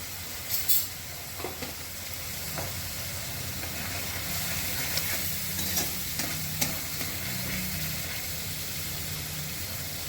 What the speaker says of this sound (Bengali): এবার আমি মশলাটাকে ভালো করে কষিয়ে নেব